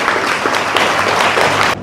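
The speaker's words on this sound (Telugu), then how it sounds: "చప్పట్లు కొట్టండి గట్టిగా." An audience at a spiritual discourse on Guru Purnima claps loudly in a dense, continuous burst of applause that cuts off abruptly near the end.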